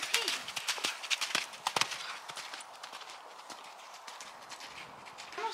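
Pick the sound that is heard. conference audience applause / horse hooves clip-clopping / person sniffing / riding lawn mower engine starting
horse hooves clip-clopping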